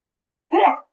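A single short, sharp sneeze bursts out of silence, close and loud, lasting about a third of a second.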